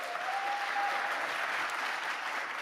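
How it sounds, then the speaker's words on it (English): Audience applause at a climate keynote conference, steady dense clapping throughout without pause, with a faint whistle-like tone early on. "I would just ask you to join me in an applause for Minister Maina from the Tuvalu"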